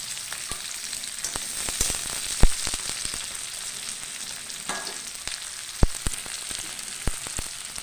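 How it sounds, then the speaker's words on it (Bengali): Sliced onions frying in hot oil for an egg dish, a steady close sizzle with scattered sharp crackles and pops throughout, no voices. "তেল গরম হয়ে গেছে, এবার আমি পেঁয়াজগুলো দিয়ে দেবো।"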